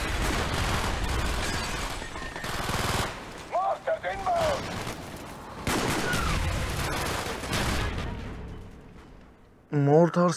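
Call of Duty Black Ops gunfire and a mortar strike rumble in dense, continuous bursts, with heavy rattling volleys, brief lulls, and a sharp electronic tone near the end.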